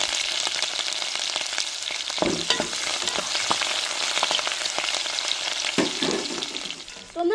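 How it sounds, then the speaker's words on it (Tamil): Mustard seeds, chopped large onion and curry leaves frying in hot oil, a continuous close crackling sizzle with sharp bursts as ingredients hit the pan and occasional stirring scrapes. "எண்ணெய் சுடாச்சுங்க கடுகு போட்டுக்கிறோம் வெட்டி வச்ச பெரிய வெங்காயத்தையும் சேர்த்துக்கிறோம் ரெண்டு கருவேப்பிலை போட்டுக்கிறோம்"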